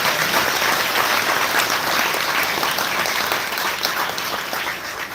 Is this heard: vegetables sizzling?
no